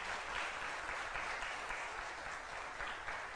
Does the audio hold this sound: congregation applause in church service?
yes